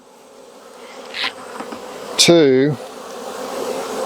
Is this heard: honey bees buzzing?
yes